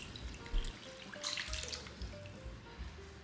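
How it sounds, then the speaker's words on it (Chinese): Water poured into a soup pot of lotus root and peanuts, a steady close trickle and splash of running water, fairly soft and continuous for a few seconds, with no speech. "加清水"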